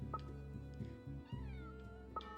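A cat in the video game Little Goody Two Shoes meows a few times, short plaintive calls at the start and end over a soft, steady tonal music bed.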